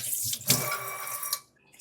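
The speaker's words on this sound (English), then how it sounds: "I'm gonna wash my hands real quick." A sink tap runs as hands are washed beneath it, a close, steady hiss of flowing water with a brief splashy surge partway, then the flow cuts off abruptly, leaving near silence.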